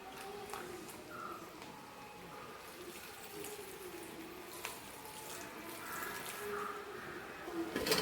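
Tamarind water is poured into a pan of homemade fried rice, a thin, steady trickle and splash of liquid heard close up, with a faint clatter toward the end.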